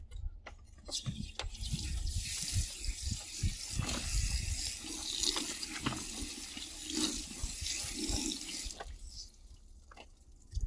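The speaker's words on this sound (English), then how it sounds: "I'm gonna rinse the pot off one last time" Running water rinses a plant pot at a sink while potting soil, a steady splashing stream with brief drips and knocks throughout, fairly close.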